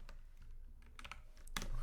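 Typing on a computer keyboard: a short, irregular run of key clicks, first sparse and soft, then quicker and louder with a firm tap near the end. No voices are heard.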